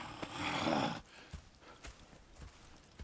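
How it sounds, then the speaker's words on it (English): Horse hooves clop in the Red Dead Redemption 2 video game, a burst of louder trotting and movement in the first second followed by scattered, softer hoof thuds. "Go check the horses are ready."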